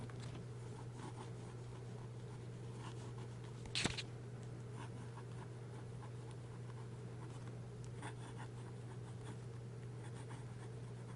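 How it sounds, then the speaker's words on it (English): A fountain pen nib writes on paper with a very faint, soft scratching under a steady low hum, broken by one brief louder rustle partway through. "So here's the writing."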